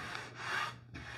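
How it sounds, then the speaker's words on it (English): Short, soft rubbing strokes of a well-used 220-grit sanding pad across an 1880 walnut washstand, two or three quick back-and-forth passes, close and quiet. "This is just a very well-used 220 sanding pad"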